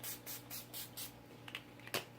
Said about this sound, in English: So I use the Dewy, the NYX Dewy Finish spray.